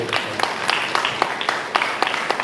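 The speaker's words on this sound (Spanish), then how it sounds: "¿Cuántos podemos darle fuertes palmas a Dios?" Congregation clapping hands loudly in a church, a dense roomful of applause with rhythmic accented beats recurring every few tenths of a second, sustained throughout.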